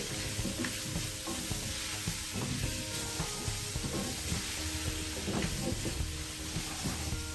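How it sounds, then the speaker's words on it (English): Bacon sizzles and crackles steadily in a pan for chicken with green beans and potatoes, with frequent scraping and stirring knocks from a utensil against the pan throughout. "As your bacon cooks down a little bit, and it will"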